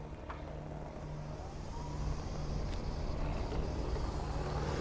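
A Quantum Edge 2.0 power wheelchair's electric motors hum steadily and build slightly in level as it drives, with a low, constant whine and no voices.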